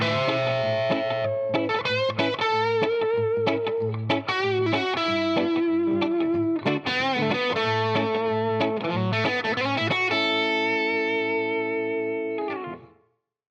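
Overdriven electric guitar plays an opening lick, fast and high over a steady low drone, notes tumbling quickly before settling into sustained chords and a clean stop.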